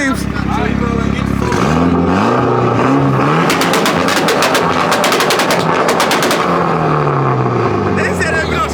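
Car at a street car meet revving hard with rapid, loud exhaust pops and crackles in machine-gun bursts through the middle, engine pitch rising and falling, with people shouting and talking over it.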